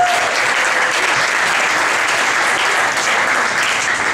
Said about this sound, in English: let's give Sarah and the residents life and dining committee a big round of applause for their work